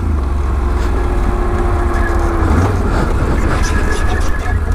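A motorcycle with a noisy drive belt runs steadily and loudly up close, a constant low engine drone with a faint whirring whine layered on top.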